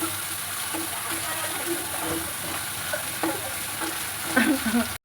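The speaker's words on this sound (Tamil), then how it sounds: "இப்போது இதோடைய பச்சை வசனை போகிற வரைக்கும் வதக்கிக்கலாம்" Onion with ginger-garlic paste sautés in a pan for a prawn thokku, a constant close sizzle broken by spatula scrapes and stirs, with a louder flurry just before it stops.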